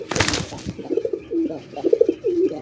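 A king pigeon calls from inside its cage, a deep, thick cooing in several short repeated phrases after a brief noisy burst at the start, fairly close and clear.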